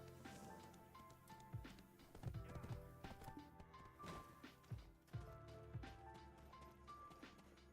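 Horse hooves clip-clopping in the video game Black Desert, a quiet steady trot with faint taps and soft game sounds, low in level and without any voice.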